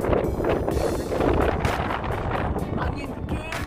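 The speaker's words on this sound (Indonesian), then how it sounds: "angin gede banget, kakak sampai kedinginan di sini" Strong wind buffets the microphone outdoors in a village near Gloucester, England, a loud, continuous rushing roar with gusty surges throughout, with no clear speech over it.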